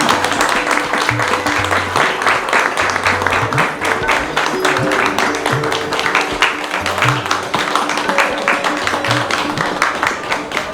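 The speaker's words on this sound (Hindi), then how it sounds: "वापस तालियां रुकनी नहीं चाहिए।" A crowd keeps up loud, sustained clapping at a train manager's retirement send-off, with dense rapid claps running throughout the whole stretch and a few voices underneath.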